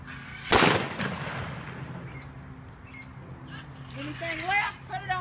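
A single loud gunshot fired at a kid's phones by a Southern mother outdoors, a sharp close crack followed by a ringing decay, with birds cawing and background voices afterward.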